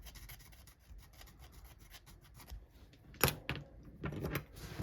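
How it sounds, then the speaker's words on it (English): A hand file rasps over a small part for a 1:20 scale Disney dolls house in short, quiet strokes up close, followed by a sharper scrape and a couple of louder strokes near the end, with no talking. "could have sworn I sanded that part off, but just try this bit again."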